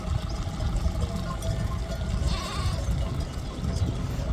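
Sheep being worked by dogs along the Via de la Plata near Monesterio, Spain, scattered bleats and clanking bells over a dense outdoor rumble of wind and movement.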